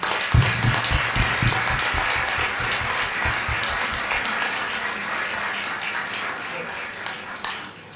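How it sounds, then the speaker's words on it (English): Students at a corporate event in Pune give a big round of applause, a broad wash of many hands clapping that holds steady, with a low hum underneath early on. "Calls for a big round of applause for all of you."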